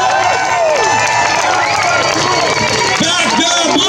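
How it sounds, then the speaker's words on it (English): A large outdoor rally crowd cheers and claps for police, a loud, dense roar of voices and applause holding steady throughout with shouting mixed in. "I want you to give them the biggest round of applause you can give them right now."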